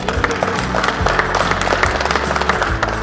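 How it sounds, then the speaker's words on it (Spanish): Wedding guests at a Mexican-Tennessee ceremony applaud the newlyweds, a thick, continuous wash of clapping with sharp individual claps poking through, filling the room for a few seconds. "Vamos a darles un fuerte aplauso"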